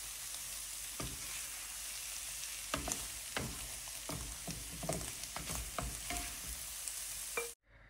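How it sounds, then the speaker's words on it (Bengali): Paratha frying in a pan, a steady close sizzle with a series of sharp scraping and stirring knocks every second or so, ending abruptly. "পরোটা ভেজে নিচ্ছি।"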